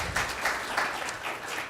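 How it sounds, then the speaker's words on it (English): A brief burst of audience applause for a patient panel at a conference, even and continuous with a few pulsing swells. "First of all, please give them a round of applause."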